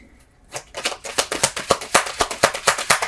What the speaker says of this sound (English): Let's do a pre-shuffle.